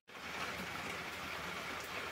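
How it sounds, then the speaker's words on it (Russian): Rain falls outdoors, a dense, even hiss of drops that fades in at the start and then holds steady, with no talk. "Ну да, дождик идет."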